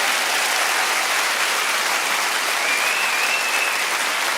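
A theatre audience applauds steadily, a dense, even wash of clapping that stays loud and unbroken throughout without any voices.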